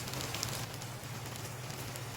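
Heavy rain mixed with falling hail, a dense, even hiss with scattered small crackling hits under a low hum, steady and moderately loud throughout without speech.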